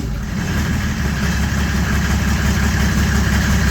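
An OM606 diesel engine in a drag car runs at raised RPM with the pump turned up, a loud, steady low rumble and drone holding constant and close with no voices.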